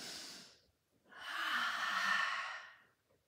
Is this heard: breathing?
yes